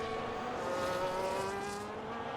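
A McLaren Formula 2 car in a racing video game crossing the line at the Mexico round, its engine a steady high tonal whine that holds close and loud for the whole moment with no voices.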